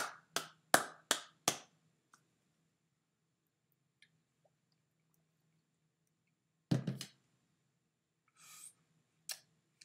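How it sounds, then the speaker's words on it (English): A few people clap for a moment in a quiet room, five crisp claps in quick succession, then a lone louder clap and a couple of faint scattered ones after a long silence. "let's give him a round of applause"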